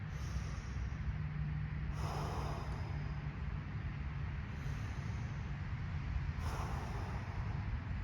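Slow, deep breaths drawn in through the nose into the stomach and let out, steady and close, with soft airy pulses every few seconds over a low background hum.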